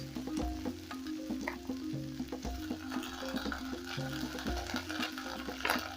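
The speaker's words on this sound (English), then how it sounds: "Now that the garlic is nice and fragrant, I'll go in with my garlic paste." Garlic paste dropped into a hot pan with fragrant fried garlic for a sausage stew, a quiet steady sizzle and crackle under a repeating low rhythmic hum from a background appliance or music, no talking.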